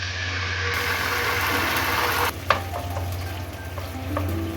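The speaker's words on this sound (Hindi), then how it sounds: "एक लहसुन जिसे मैंने चॉप कर लिया वो डाल दें और लहसुन को थोड़ा सा फ्राई कर लें" Chopped garlic fries in a pan with a steady, close hiss of hot oil, broken by a brief clatter of a spoon or utensil midway, with no talking.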